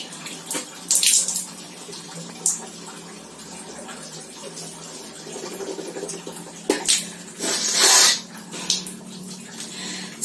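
Water poured and splashed from a tap while performing wudhu ablution, with intermittent bursts of splashing and trickling separated by quieter running water, heard close up and alone.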